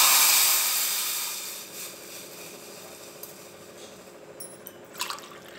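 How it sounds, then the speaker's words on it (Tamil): Water from a tumbler poured into a pan while making ginger tea: a fairly loud hissing, splashing pour at the start that fades over a couple of seconds into a low simmer with faint drips and small clinks. "இப்போ வந்து ஒரு டம்ளர் தண்ணி ஊற்றிக்கிறோங்க."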